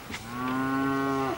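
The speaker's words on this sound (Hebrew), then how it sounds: "הנה הפרות." A single cow lets out one long, clear moo, close and steady for over a second, with no one talking over it.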